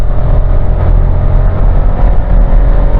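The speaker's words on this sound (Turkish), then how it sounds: "dip gaz yaptığımda arkadaşlar manuel kullanımda Evet 6500'de vites değiştiriyor araç" A 2020 Volkswagen Polo 1.0 TSI with DSG gearbox, in sport mode at full throttle, gives a steady, loud engine drone with deep low rumble, continuous from start to finish.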